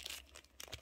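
Plastic packaging around a plush doll's name card is torn open by hand, giving a brief close crinkling rip in two quick bursts.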